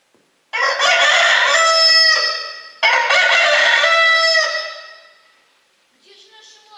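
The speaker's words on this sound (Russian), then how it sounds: "Уже петух три раза проорал" Rooster crowing loudly and close in a fairy-tale audio story, two long full cock-a-doodle-doo calls back to back, followed by a fainter partial call after a short pause.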